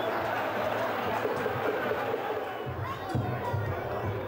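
At a cup football match, a stadium crowd roars and cheers with continuous loud, dense noise, the swell shifting slightly as voices rise and fall.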